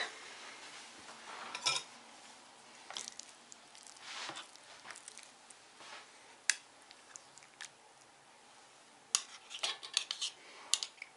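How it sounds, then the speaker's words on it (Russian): A spoon scrapes and clinks against greased muffin tins while cottage cheese is scooped in, with scattered soft clinks and squishy taps over a quiet kitchen background. "Сейчас будем раскладывать творог."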